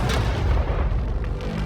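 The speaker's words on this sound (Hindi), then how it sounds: "ठीक है, ये 5 टैंक्स पैसों पर निशाना लगाकर 20 राउंड फायर करने वाले हैं।" A tank cannon fires a round at a target set up with cash: one heavy, loud boom that fills the space and rolls on as a dense low rumble, with no talking over it.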